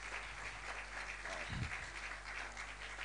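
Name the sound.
audience applause welcoming the MC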